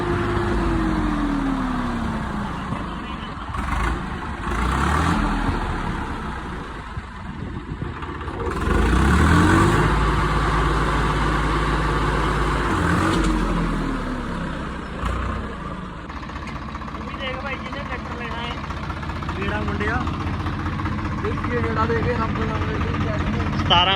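A 2013-model tractor with roughly 2500 running hours churns at close range while its engine rises and falls through a few revs, with people talking over the low mechanical drone.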